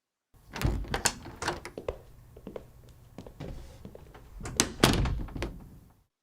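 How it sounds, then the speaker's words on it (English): An indoor door is handled at a wedding venue, giving a few sharp thunks and knocks, near and fairly loud, with latch and handle rattles in between. "Open the door."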